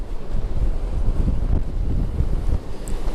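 Strong wind buffets the microphone in a constant low roar on the deck of an 83,000-ton bulk carrier ship near the bow, with a wash of sea noise underneath and no voices.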